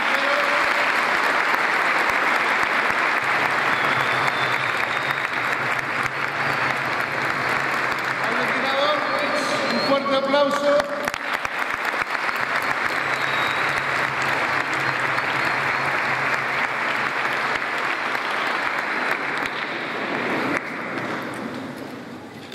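Loud, sustained crowd applause fills a town's patronal festival centenary celebration in Coronel Moldes, Córdoba, a dense steady wash of clapping that carries on for about twenty seconds before tapering off, with a brief announcer's voice around the middle.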